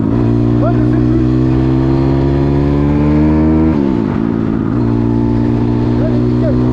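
A Zongshen 180 motorcycle engine running loud and close, a steady harmonic drone that dips and swells as the throttle opens, with a brief shift in pitch midway.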